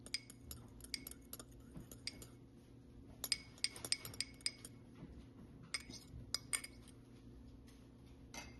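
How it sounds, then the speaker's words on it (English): A fork beats an egg in a bowl with quick, bright clinks against the rim, coming in irregular bursts of rapid taps with short pauses between them, quiet and close. "I'm going to scramble it with a fork"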